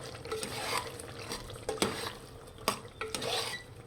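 Spices (chili powder, turmeric and ginger paste) stirred into oil in a pan for mutton haleem, with a steady soft sizzle under repeated sharp scrapes and clinks of a spoon against the pan.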